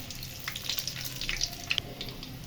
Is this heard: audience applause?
no